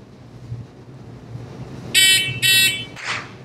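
Two sharp electronic beeps from a shot timer sound in quick succession, loud and close, followed by a brief burst of noise, over a quiet background hum.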